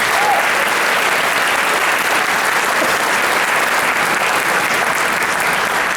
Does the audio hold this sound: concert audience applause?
yes